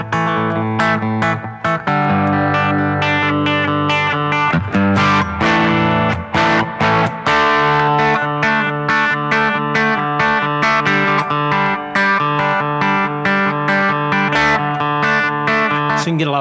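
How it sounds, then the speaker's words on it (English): Electric guitar played with hybrid picking through distortion, a dense run of plucked notes and chords ringing out in quick, driving rhythm, loud and close throughout with no talking. "let me turn on a little bit of distortion here."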